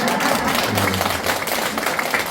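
A dense wash of audience applause at a Korean lecture event on living and dying well, loud and continuous for a couple of seconds.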